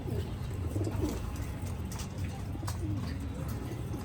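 Racing pigeons coo in a loft, a low continuous murmur of several birds over steady background noise, with a few soft clicks and flutters.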